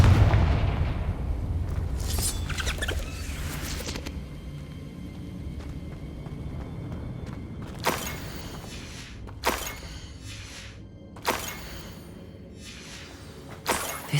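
Fire-spell explosions in the video game Hogwarts Legacy, a series of sharp booming blasts spaced a second or two apart over a low rumbling game ambience, no talk.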